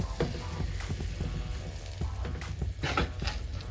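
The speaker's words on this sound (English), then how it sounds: "We're gonna place our chops in our skillet." Pork chops in a large skillet over medium-high heat give a soft, steady sizzle close by, broken by a few light clicks and taps, with no voices.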